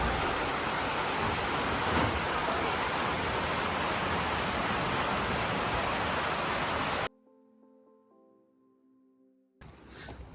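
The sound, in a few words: evening rain and thunderstorm in Suriname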